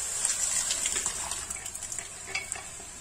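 Dal for a dhaba-style dal makhani is added to roasted masala in a pan, giving a steady hissing sizzle with wet stirring and scraping, close and moderately loud with no talk.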